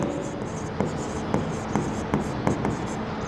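Pen strokes scratch across paper while accounting entries are written, with a steady run of short marks and small rhythmic ticks about every half second over a constant background hiss, close and fairly faint.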